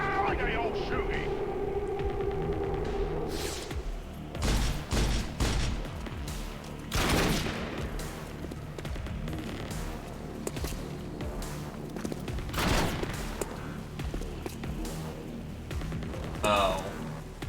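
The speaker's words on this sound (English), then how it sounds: "No clear shot, but they're still shooting." XCOM 2 combat gunfire cracks out in scattered loud bursts and booms over a rumbling game soundscape, with voices talking between the shots.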